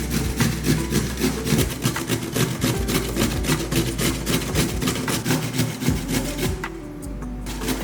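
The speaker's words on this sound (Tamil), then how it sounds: "இந்த மாதிரி பெருசாக காய் துருவுறது அதில் வச்சு நம்ம காயெல்லாம் துருவிக்கலாம்" Vegetables are rubbed across a large kitchen grater, making a continuous close scraping rasp in rapid repeated strokes that stop near the end. No voices are heard.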